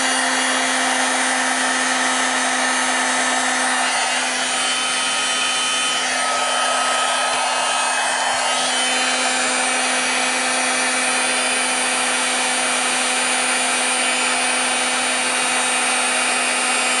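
A heat tool blows hot air over a handmade card in a steady, close, loud whooshing hiss with a constant hum underneath, lasting the whole stretch with a slight swell in the middle.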